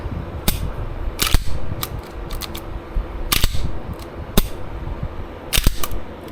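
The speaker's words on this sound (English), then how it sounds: "A little press check, trigger check." An HK VP9 pistol gets a press check and trigger check, producing a series of sharp, close metallic clicks and snaps at irregular intervals over a low handling rustle.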